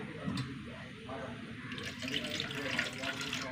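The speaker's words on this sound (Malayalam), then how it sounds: "കുറച്ച് വെള്ളം ഒഴിച്ചിട്ട്" Water poured into a pan to melt jaggery for a sweet, a steady running, splashing flow that grows brighter toward the end, heard close.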